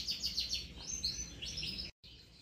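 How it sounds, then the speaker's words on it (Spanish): Several birds chirp and sing in quick repeated high phrases, fairly close and clear over a low ambient rumble, with a brief dropout near the end. "dejé que los pájaros los saludaran para que oyeran el cantillo que yo sé que les gusta"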